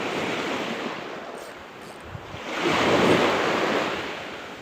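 Strong wind blows across a shoreline while waves wash in, a continuous rushing surge that swells louder toward the middle and end, with no voices.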